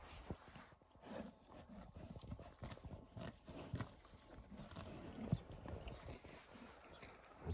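Faint, irregular hoof clops of a mare moving on ground, quiet and somewhat distant, with a soft snort or two.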